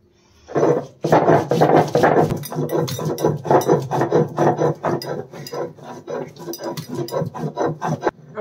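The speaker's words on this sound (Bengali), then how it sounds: "ধনে আর জিরেটা পিষে নিচ্ছি প্রথমে" Soaked coriander and cumin seeds are ground on a grinding stone in a Bangladeshi village kitchen, making close, rhythmic rasping strokes that repeat steadily and loudly for several seconds.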